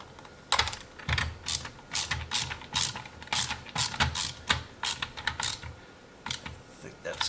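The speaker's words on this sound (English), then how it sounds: "Let's get this wrench down here." A ratchet wrench tightening a SPACEKEEPER furniture mover dolly clicks in quick, irregular bursts of sharp ticks, close and fairly loud, pausing between strokes.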